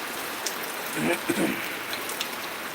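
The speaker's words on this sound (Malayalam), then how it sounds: "കൂടുന്ന മഴ" Heavy rain pours down steadily in Changanacherry, Kottayam, Kerala, a dense broadband hiss with patters on surfaces, while a voice speaks briefly underneath.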